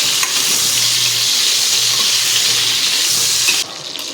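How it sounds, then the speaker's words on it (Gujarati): Whole onions are stirred into a masala in a hot pan for a Kathiyawadi onion curry, giving a steady loud sizzle with soft scraping, until the sound drops away near the end. "બધું મિક્સ કરી લઈશું ડુંગળી સાથે"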